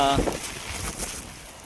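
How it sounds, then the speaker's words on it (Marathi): A short burst of strong wind buffets the microphone, steady and rushing, with faint water sounds beneath, during traditional prawn fishing on the Konkan coast. "वारा चांगलाच आहे"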